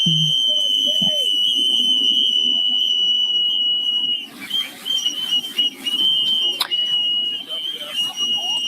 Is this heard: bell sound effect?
no